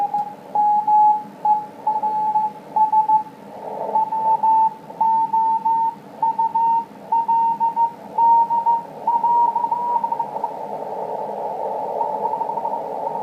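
A radio signal tuned through a rectangular bandpass filter comes through as a steady tone broken into repeated beeping pulses over faint noise, then fades into a broader hiss near the end.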